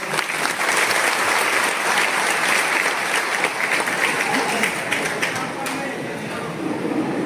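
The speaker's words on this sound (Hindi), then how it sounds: "एक बार मैं चाहता हूं कि आपके पेशेंस के लिए एक बार तालियां हो जाए आपको" A business presentation audience bursts into loud, continuous applause, dense and sustained clapping that eases slightly toward the end.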